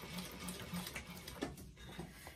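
A sewing machine running a short backstitch on a handmade bag, a quiet, close, rhythmic ticking and whirring that comes in brief uneven bursts.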